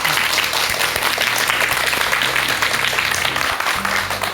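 A studio audience at a televised lecture breaks into loud, dense applause that holds steady throughout, with a voice briefly audible underneath.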